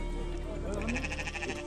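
Lambs at a livestock market in Karakol give a wavering bleat that rises and falls in pitch over busy market background noise, with people talking nearby.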